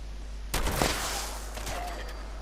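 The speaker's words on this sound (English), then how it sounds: "We'll go with my shotgun." A shotgun blast in the Fallout 76 video game, one sharp loud report that starts abruptly and is followed by a ringing tail and some smaller impacts.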